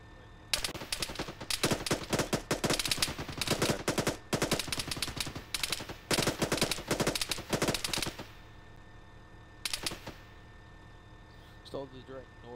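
Rapid bursts of automatic gunfire rattle during an Arma 3 USMC co-op firefight at a hotel, dense crackling volleys broken by short pauses, fading to a lone burst and quiet near the end.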